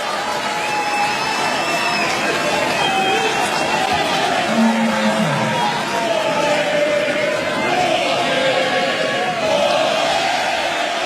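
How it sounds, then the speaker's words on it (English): A vociferous crowd at the Australian Open men's final between Djokovic and Tsitsipas, a dense roar of cheering and chanting that carries on steadily throughout with no break. "This is a vociferous crowd."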